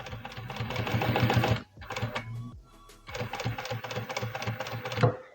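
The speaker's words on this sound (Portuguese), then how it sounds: "Nessa parte aqui eu costuro livre mesmo, para eu poder ir ajeitando o viés na linhazinha." A sewing machine stitching bias tape onto fabric for a placemat, running in fast rattling bursts with a short pause and slower stitches between, close and loud with no talk.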